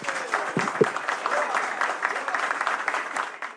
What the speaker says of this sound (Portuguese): gostaria de pedir que pudéssemos saudar Henrique Meirelles com uma calorosa salva de palmas